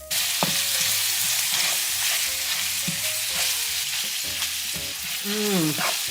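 Steady, loud sizzle of ground beef frying in a pan, with scraping and tapping of a utensil breaking up the meat throughout.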